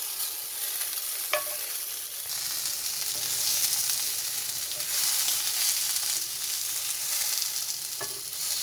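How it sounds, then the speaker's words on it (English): Tomatoes roast in oil in a pan with a steady, moderate sizzle and a few sharp clicks of stirring, heard alone and fairly faint, with no voices. "Just roast this until the tomatoes are mashed, or you can see the golden color, roasted color."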